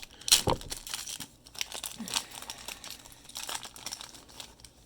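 A 2003 Bowman Chrome hobby card pack being torn open, close crinkling and ripping foil bursts, a sharp tear near the start followed by scattered rustles and crinkles.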